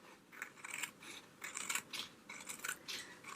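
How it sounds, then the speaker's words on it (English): Scissors snip through a junk journal page in a series of short, crisp cuts, close and fairly quiet, each snip a brief bright rasp separated by small pauses. "I'm going to cut a little bit off right here."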